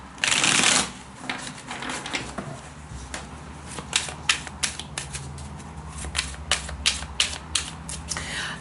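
Tarot cards are shuffled up close, a loud riffle at the start followed by a steady run of crisp flicks and taps at an even pace, with no voices.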